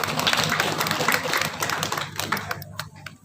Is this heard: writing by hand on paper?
no